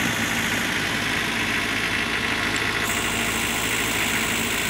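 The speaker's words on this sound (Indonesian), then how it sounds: "mesin kita hidupkan" A car engine idles right after a timing belt replacement, a steady close hum with an even low rumble and light vibration, running alone without talk.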